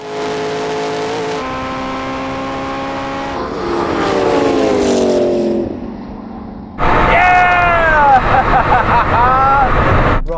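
LaFerrari, Porsche 918 and McLaren P1 hypercars race, with loud sustained engine drones rising in pitch through the gears, a brief dip between shifts, then a sharp burst of harder revving near the end.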